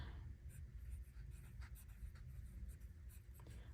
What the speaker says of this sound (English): I am writing on Cosmo Air Light paper here